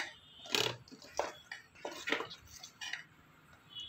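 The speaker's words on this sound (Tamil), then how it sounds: "அதில் இந்த அரைச்சி வச்ச விழுதை நம்ம மிக்ஸ் பண்ணிக்கலாம். இது மாதிரி இந்த கன்சிஸ்டன்சி வர வரைக்கும் நல்லா மிக்ஸ் பண்ணிக்கோங்க." A spoon scrapes and knocks against a bowl while ground paste is mixed into dosa batter, giving a few sharp, close clinks spaced irregularly over a quiet background.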